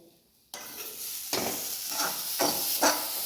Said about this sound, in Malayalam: നന്നായിട്ട് വറുക്കണം കേട്ടോ നാളികേരം